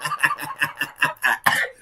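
A person coughs in a rapid, close series of about eight harsh bursts, some of them with a laughing quality, alone with no talk.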